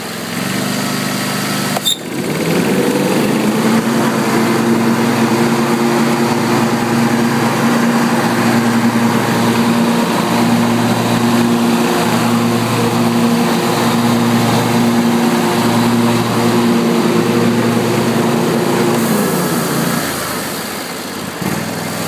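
A Scag STC52V-23BV riding mower with its deck engaged, starting with a click and then running steadily at close range with a loud droning engine hum and a faint rhythmic pulse until it winds down near the end.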